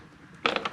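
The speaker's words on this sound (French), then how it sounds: "On vient essayer de tirer la glace. Donc ça va venir." Mirror glass on a Nissan Qashqai door mirror prised off with a protected spatula: after a quiet moment comes a sudden sharp plastic crack, followed by a few quick clicks and snaps as the glass comes free.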